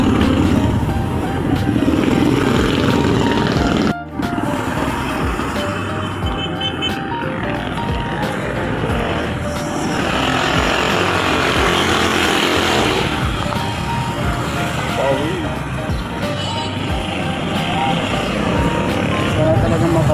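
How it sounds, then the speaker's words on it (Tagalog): Motor traffic with many tricycles passes along a street, engines buzzing and rising and falling in a continuous drone, loud and close, while a person talks over the noise. "Dami tumaada na tricycle."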